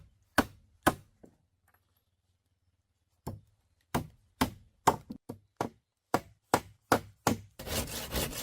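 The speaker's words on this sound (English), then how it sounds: "Heavy blows drive the steel nails deep into the grain, clamping the wood fibers tightly together permanently." Sharp wooden impacts of steel nails being hammered into wooden log posts while building a log cabin, a few single blows then a steady run of about a dozen loud, evenly spaced strikes, ending in a rougher scraping burst.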